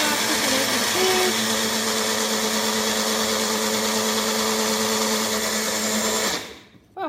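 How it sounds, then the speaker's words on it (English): A blender mixes a Herbalife shake with a steady, loud motor whir that holds evenly for about six seconds, then spins down and stops, with no talking. "Right, onto the blender."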